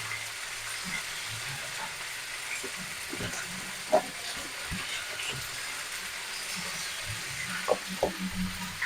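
Raw mango pickle fries and is stirred in a pan, giving a continuous close sizzle broken by clinks and scrapes of the spoon against the pan, with no voices.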